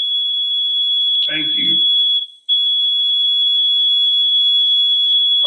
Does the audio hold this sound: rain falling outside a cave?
no